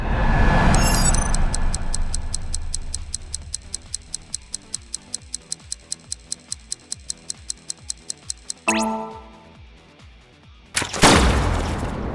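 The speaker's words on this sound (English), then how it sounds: "Shoot the vending machine." Video game gunfire from AI: The Somnium Files as a vending machine is shot, a rapid regular burst of clicking shots followed by a loud crash and a sharp blast near the end.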